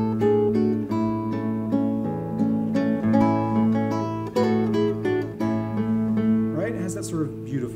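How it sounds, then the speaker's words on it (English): Plucked nylon-string guitar playing a gentle melody with warm, rounded notes and sustained chords, close and clear, no voices. "It's referred to as a nylon string guitar"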